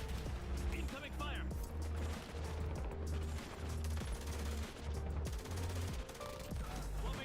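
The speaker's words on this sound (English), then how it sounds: "Incoming fire." Incoming gunfire in Call of Duty Warzone: steady bursts of rapid shots repeat across the whole stretch over a low rumbling battle bed, loud and continuous, with a voice talking faintly underneath.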